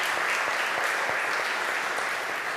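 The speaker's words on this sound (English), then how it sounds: "A round of applause again." An audience gives a renewed round of applause after a choral performance, continuous dense clapping at an even, fairly loud level for the whole stretch.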